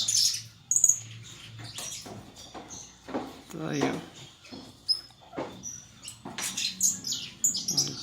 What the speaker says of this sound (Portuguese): Tá aí o canário agressor.